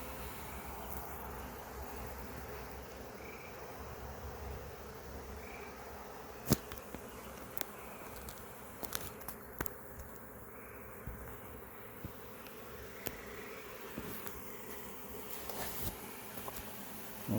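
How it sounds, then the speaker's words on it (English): A honey bee swarm fans its Nasanov glands on a branch, making a faint, continuous hum of many wings with occasional sharp clicks and brief knocks over the buzzing. "They're fanning their Nasanov glands."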